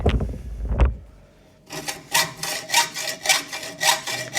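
Handsaw cutting through timber, a quick knock then a steady series of rasping back-and-forth strokes, close and clear with no talking.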